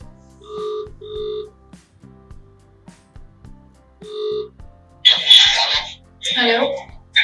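An outgoing phone call rings on speakerphone with repeated electronic ringback tones, while people talk nearby before the line picks up.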